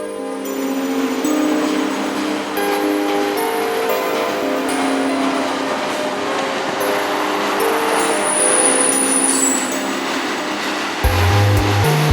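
A freight train with a depressed flat car and a caboose at the end rolls past close by, a loud continuous rumble with tonal squeals and a sharp high whine partway through.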